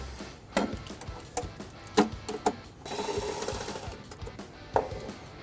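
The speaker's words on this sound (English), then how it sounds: "Now to remove this, we're going to use an 8mm socket." Close, sharp ratchet clicks and taps from an 8mm socket removing a screw on a 2020-2024 Lincoln Corsair during trailer wiring installation, with a brief steady whir midway.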